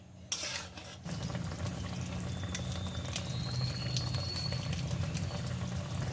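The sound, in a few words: okra masala gravy simmering and being stirred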